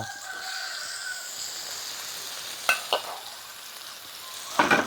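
Mushrooms and meat are stir-fried in a pan with garlic, galangal and lemongrass, giving a faint, steady sizzle with a few sharp utensil clacks against the pan.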